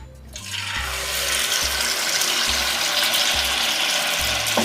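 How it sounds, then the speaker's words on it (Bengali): Malpua batter hits hot oil in a pan, bursting into a loud, steady sizzle that quickly swells and holds as a continuous hiss, with low clunks of utensils underneath. "তেল গরম হয়ে গেছে, এবার মালপোয়া ভেজে নেব।"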